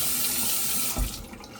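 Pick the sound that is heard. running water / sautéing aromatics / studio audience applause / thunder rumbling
running water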